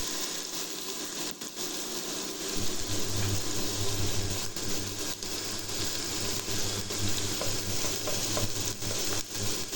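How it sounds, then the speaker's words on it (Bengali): Spices with turmeric, cumin powder and salt are cooked down for a fish curry with kohlrabi and potato, giving a loud, continuous sizzle and frying hiss with a low steady hum beneath it. "এবার আমি মশলাটা ভালোভাবে কষিয়ে নেব"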